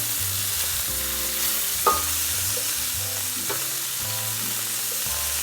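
Beef pieces sear in an Instant Pot for stew, giving a steady hissing sizzle with a couple of sharp clinks and scrapes as the meat is stirred, close and without talk.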